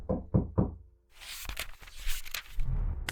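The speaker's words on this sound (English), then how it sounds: "Someone's still knocking. Let's go look at the door." In the point-and-click detective game Casebook 1899, three sharp knocks rap on a wooden door, followed by shuffling footsteps and thuds as the door is approached, close and clear with no speech.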